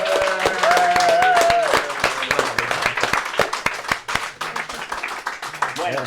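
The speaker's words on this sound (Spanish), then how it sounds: "aplauso para Fede" Audience applause at a live talk on UFOs, dense clapping throughout with voices and a whistle-like tone over it, fairly loud and fading slightly toward the end.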